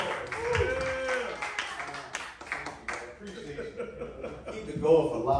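An audience at a live comedy show claps and cheers for the comedian, scattered applause and crowd noise with voices talking over it, rising again near the end.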